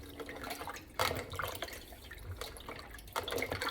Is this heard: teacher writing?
no